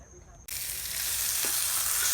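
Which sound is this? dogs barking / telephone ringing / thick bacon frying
thick bacon frying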